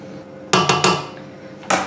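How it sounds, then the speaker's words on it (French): Butter is scraped from the sides of a mixing bowl while making easy chocolate shortbread dough, heard as three quick clinking knocks of a utensil against the bowl, a pause, then one more knock, all close and sharp. "je vais juste ramener le beurre vers l'intérieur parce qu'il est collé aux parois du bol"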